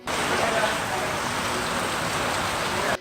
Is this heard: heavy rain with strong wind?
yes